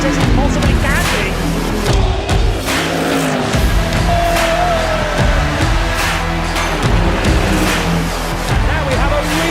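GT race cars from Lamborghini, Mercedes-AMG and Ferrari roar away at the start of the 2023 24h Nürburgring, a loud dense engine wash with passing revs, under a commentator's voice.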